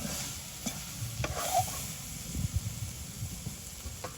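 A spoon stirs cooked flat beans with turmeric in a pan over a village cooking fire, giving soft scraping and gentle sizzling strokes up close, with no talking.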